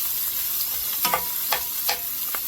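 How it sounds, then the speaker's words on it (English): Diced vegetables frying in bacon grease sizzle with a steady hiss, broken by a few soft stirring scrapes, close by, with no voices. "I'm going to let this fry in this bacon grease for probably about 5, maybe 6 minutes"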